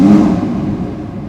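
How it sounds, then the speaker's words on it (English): A Lamborghini Huracan EVO Spyder's 5.2-liter V10 catches at startup with a loud, deep blare that settles quickly into a rumbling idle, heard up close and alone. "Startup sound is wow."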